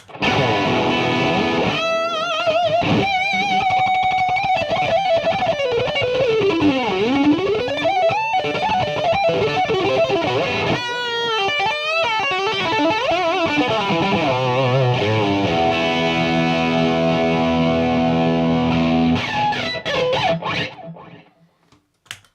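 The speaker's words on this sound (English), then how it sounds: "What I have here is an Yngwie Malmsteen Overdrive the Dodd 308, and I'm running that at full" Heavily overdriven electric guitar through a Yngwie Malmsteen Overdrive pedal set at full plays a fast, sustained lead line with sweeping bends and runs, loud and continuous, ending on a held note that fades out.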